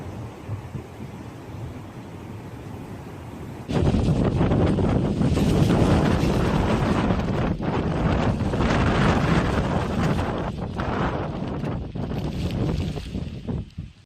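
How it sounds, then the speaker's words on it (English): Strong typhoon winds of about 144 km/h gust across an exposed coast, a loud sustained roar of buffeting air with heavy wind noise on the microphone, breaking in abruptly a few seconds in and staying intense to the end. "The storm brought maximum sustained winds of around 144 kilometers per hour, with powerful gusts affecting coastal communities."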